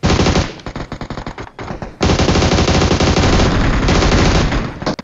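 Automatic gunfire in the mobile battle royale game BGMI, rapid loud close bursts of shots with a short pause, then a long sustained stream of fire.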